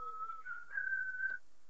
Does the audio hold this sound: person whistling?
yes